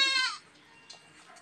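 A goat on a farm gives one short, fairly close bleat, followed by quiet rustling and faint background noise.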